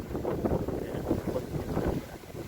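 Gusty wind blows outdoors across a rice field where rice is being tied into bundles as a storm approaches, a steady rough rumble filling the scene with no talking.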